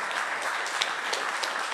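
A concert crowd keeps up applause that is fairly soft and even, a short stretch of scattered claps with no voice over it.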